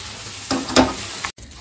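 Minced mutton keema sizzling in a pan as korma masala is stirred in, with a few louder scraping strokes over a steady frying hiss.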